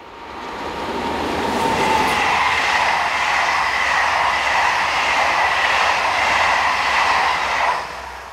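An SNCF BB15000 electric locomotive hauling a passenger train for Le Havre passes close by, a loud steady rolling roar with electric whine that holds for several seconds and then eases off.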